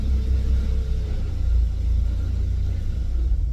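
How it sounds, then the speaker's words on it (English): An R31 Nissan Skyline fitted with a mini spool differential rolls along, its engine giving a steady, loud low rumble that stays even throughout with no revving spikes. "first run / movement of the Skyline with mini spool diff."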